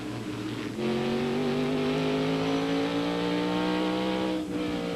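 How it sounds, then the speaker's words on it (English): NASCAR Featherlite Modified Tour race cars roar around Martinsville Speedway, a short tight oval, with a loud engine surging in after a brief quieter moment and holding a strong sustained drone that slowly shifts in pitch. "I love to watch these modified cars compete"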